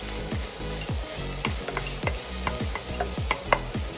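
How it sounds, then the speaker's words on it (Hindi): Garlic sizzles in a spoonful of hot oil in a pan, a steady close crackle with repeated scraping stirring strokes at a brisk rhythm and no talking. "पैन में मैंने 1 चम्मच ऑयल गरम कर लिया है। अब इसमें लहसुन डालेंगे,"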